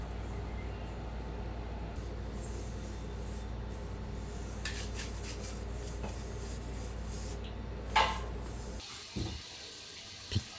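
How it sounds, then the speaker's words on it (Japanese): Steady rubbing and scrubbing with running water fills a small, long-established diner's kitchen in Sasebo as the surfaces are polished, and a few knocks and clunks come near the end. "調理場も隅々まで磨いていく。"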